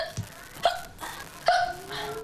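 A 15-year-old girl with a months-long bout of hiccups gives three sharp, abrupt hiccups at irregular intervals. They sound close and fairly loud, with some soft voiced sound between them.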